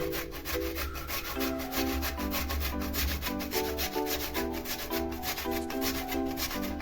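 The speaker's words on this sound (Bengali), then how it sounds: "দেখুন এইভাবে মিহি করে ঘষে নিচ্ছি আমি" Raw potatoes rubbed on a grater for pakora make steady rhythmic scraping strokes, close and fairly loud, repeating evenly throughout with no speech.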